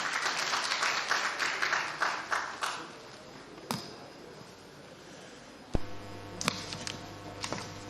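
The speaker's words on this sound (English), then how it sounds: "A round of applause for him." An audience applauds at the opening ceremony of the Nigerian Institution of Agricultural Engineers in Ilorin. The dense clapping fades out within a few seconds, leaving a quiet hall with a few scattered knocks.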